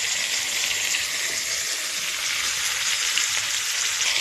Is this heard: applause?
no